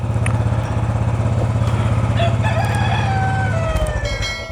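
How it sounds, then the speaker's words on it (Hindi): A rooster crows loudly in the early morning over the steady rumble of an idling motorcycle engine, its call rising and trailing off. "ये सुबह से बहुत चीख रहा है मुर्गा।"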